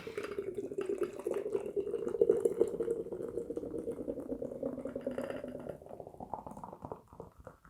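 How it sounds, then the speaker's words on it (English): Left Hand Brewing Galactic Cowboy Nitro imperial stout poured hard from the can into a glass, a steady low gurgling glug running several seconds, quiet and close with no speech. "And give it the proper pour."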